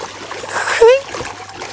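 Fish splash the water quickly as they are fed, a brief burst amid light background noise, with a short whistle-like squeak right after.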